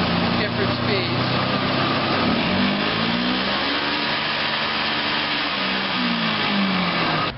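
A truck-mounted carpet cleaning machine weighing about 1,000 pounds, driven by a Toyota engine, running loud and steady throughout, with its pitch shifting up and down as it changes speeds under a constant heavy whine.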